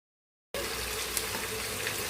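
Ground onion sizzles in hot oil with cumin: after a brief silence a steady, dense frying hiss starts abruptly and continues evenly, close and fairly loud, with a faint pop or two.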